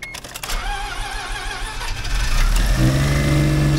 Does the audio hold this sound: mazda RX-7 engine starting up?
yes